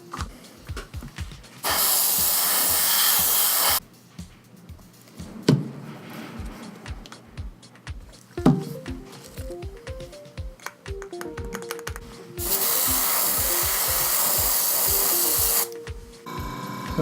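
Short bursts of airbrush or spray-can hiss apply varnish to a small scale model of a Haunebu II craft, two long sprays separated by clicking, tapping and handling noises at close range.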